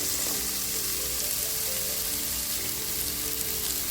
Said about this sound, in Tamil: எண்ணெய் ஊற்றிட்டு முதல் பாவக்காய் போட்டு நல்லா வணக்கிக்கலாம்.